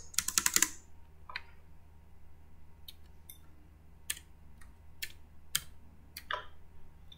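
Keys tapped on a computer keyboard while entering a short word label in a school computer practical, a quick burst of clicks at the start followed by scattered single keystrokes over a low steady hum.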